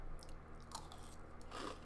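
Crunchy Cheetos and Fruity Pebbles being eaten close up, with several quiet crisp bites and chewing crunches scattered across a faint background.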